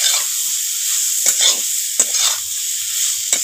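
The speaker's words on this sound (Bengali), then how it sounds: "সব মশলা দিয়ে ভালো করে একটু মিশিয়ে নেবো।" Spices being stirred into pumpkin cooking in a pan, with a continuous hiss of frying broken by several distinct scraping strokes of a spatula, close and fairly loud, no talking.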